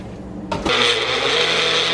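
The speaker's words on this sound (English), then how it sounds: "Say a prayer for my blender." Blender whirring up halfway through as it blends frozen papaya and dragon fruit, jumping from a low hum to a loud, steady grinding whine close by.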